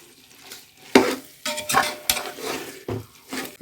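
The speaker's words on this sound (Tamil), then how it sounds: "நல்லா கலந்து விட்டுருங்க." Chicken dum biryani mixture is stirred in a cooking pot, giving irregular close scrapes, soft clinks and wet shuffling of the spoon against the metal, with no talking.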